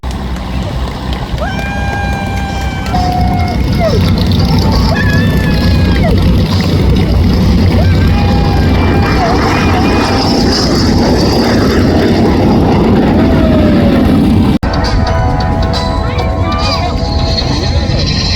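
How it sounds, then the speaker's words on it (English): An L-39 and a T-6 depart at an air show, engines droning steadily and loudly under a public-address announcer, with whistling tonal sweeps from the aircraft and crowd ambience. "the two aircraft that just departed that will be making passes for you here momentarily"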